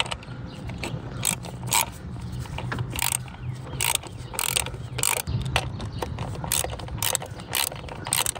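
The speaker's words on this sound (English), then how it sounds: "Now we're gonna go ahead and tighten it down with the 12mm socket." A ratchet with a 12mm socket tightens the EGR valve bolts on a 2002 Mitsubishi Montero Sport, giving repeated quick clicking bursts in an irregular rhythm, close up and clear, with no talk.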